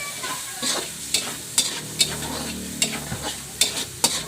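Bitter gourd with egg, tomato and sautéed aromatics stir-fried in a pan: a low sizzle beneath repeated crisp scrapes and taps of a spatula against the metal, close and fairly regular.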